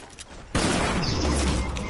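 Gunfire striking the player in a video game, heard as a sudden loud, dense burst of rapid shots after a quieter half second, continuing as a sustained roar to the end.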